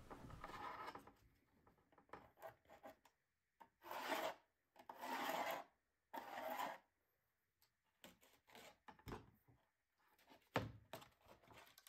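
Short rasping strokes of a file on a lightweight PLA model airplane's hinge line, coming in close bursts separated by pauses.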